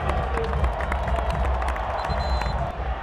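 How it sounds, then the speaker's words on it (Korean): Stadium crowd at a K League 2 football match between FC Anyang and Suwon Samsung, clapping and cheering as a broad roar beneath continuous commentary. "박수를 보내주십시오."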